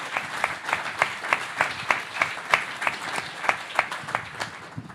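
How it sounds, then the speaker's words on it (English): An audience at a government conference applauds the organising team, a steady stream of claps with distinct sharp individual hits standing out, moderately near and without talk. "So perhaps we could give the team a round of applause"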